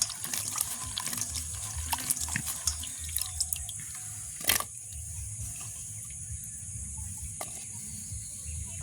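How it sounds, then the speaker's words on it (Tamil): Raw plantains are rinsed under a running tap outdoors in a village kitchen, giving a steady splash of flowing water with scattered drips and small knocks, low and continuous throughout. "வாழைக்காய் நல்ல கழுவி எடுப்போம்"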